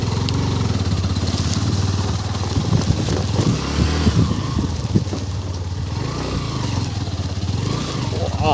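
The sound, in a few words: motorcycle engine riding off-road on sand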